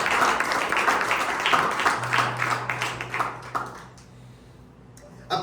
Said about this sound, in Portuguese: Vamos aplaudir o Senhor pela palavra dele.